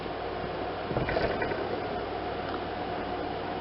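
A mixer churns sourdough chocolate cake batter with a steady close mechanical whir, briefly rising into a louder knocking rattle before settling back to an even hum.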